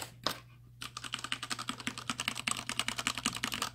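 Someone types on a Corsair K68 keyboard in quick, close, clicky keystrokes that come in an uneven but busy rhythm after a short pause at the start. Nobody speaks.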